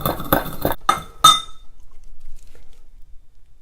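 Toasted Sichuan peppercorns are ground in a few quick, hard clinking strokes close by, followed by near silence.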